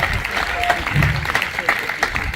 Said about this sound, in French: Acclame le Seigneur Jésus pour ce merveilleux témoignage.